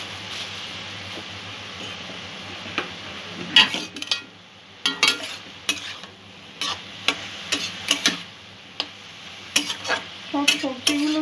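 Veg momo filling of mixed vegetables sizzling in a pan over a medium-low gas flame, with steady frying hiss and repeated spatula scrapes and clinks against the pan at irregular intervals, close and moderately loud, no talk.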